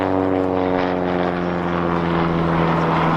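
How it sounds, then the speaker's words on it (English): Scottish Aviation Bulldog with a 180 hp air-cooled, horizontally opposed four-cylinder Lycoming engine performing at an air display, giving a loud, steady propeller drone that holds without a break and with no talk. "Same engine, 180 horsepower, air-cooled, horizontally opposed four-cylinder Lycoming with the Tutor."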